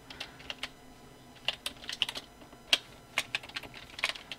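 Fairly quiet keystrokes on a computer keyboard while entering text, an irregular patter of light clicks with a few sharper taps, heard alone without speech.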